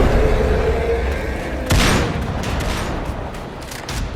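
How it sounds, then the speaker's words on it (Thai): A loud burst of gunfire cracks out, followed by several scattered shots over a dull background rumble. "เสียงปืนของตาสุกและลูกน้องยิงสกัดไว้"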